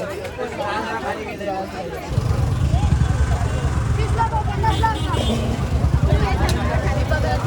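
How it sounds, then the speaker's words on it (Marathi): A traffic jam in a busy rural market, with a steady low rumble of idling vehicle engines starting about two seconds in, under loud crowd chatter and voices throughout. "ट्रॅफिक जाम झाला बाजारात"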